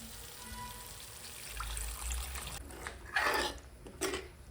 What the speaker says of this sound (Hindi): मसाला मेरा रेडी हो गया है और इसमें थोड़ा सा डालूंगी पानी